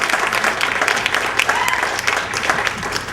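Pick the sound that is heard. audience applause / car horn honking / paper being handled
audience applause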